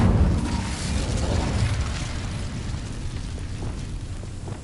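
The Incendio fire spell from the video game Hogwarts Legacy, a loud, roaring, whooshing burst of flame that begins forcefully and slowly fades while still rumbling.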